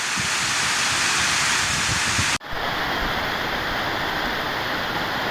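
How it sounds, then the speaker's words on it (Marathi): Heavy rain pours steadily in Akkalkot taluka, Maharashtra, a dense, loud wash of falling water that is briefly cut off partway through, then resumes as a slightly thinner but continuous roar. "अक्कलकोट तालुक्यात जोरदार पावसाला सुरुवात झालेली आहे"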